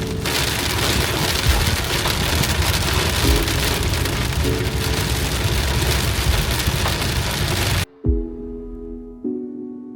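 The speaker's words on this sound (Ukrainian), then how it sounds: "Просто подивіться, який падає дощ." Heavy rain pours down in a dense, constant roar, then cuts off abruptly near the end, leaving a low engine hum.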